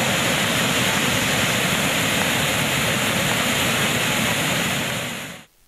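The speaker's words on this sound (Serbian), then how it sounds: "Šum govori kolika je snaga vode." Rushing floodwater in a swollen river that has burst its banks gives a loud, steady, broadband roar that holds constant, then cuts off abruptly near the end.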